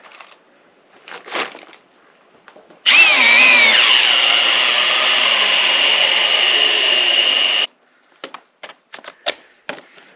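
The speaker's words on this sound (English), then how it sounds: "And then I just go through and screw it together." A power drill drives screws into wood: one loud, steady whirring run of about five seconds, with short clicks and knocks before and after.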